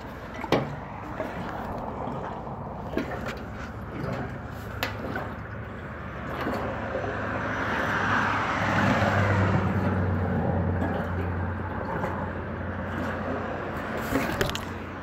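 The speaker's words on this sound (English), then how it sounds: "And so hopefully you guys can see that the gas is going in." Gasoline pours into the fuel tank of a vehicle nicknamed War Machine, a steady rushing, gurgling flow that swells louder midway and then settles, with a few faint knocks and drips.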